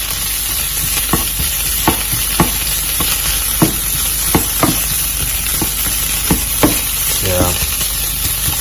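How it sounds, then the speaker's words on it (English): Pork stir-frying in a pan, a steady loud sizzle broken by sharp scraping clicks of a utensil against the pan roughly every half second, with no talking. "Put in the pork, I guess. Stir fry that for a bit."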